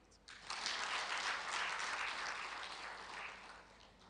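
An audience at a teacher award event applauding a professor, a sustained wash of many hands clapping that swells quickly and fades slightly, heard from a distance.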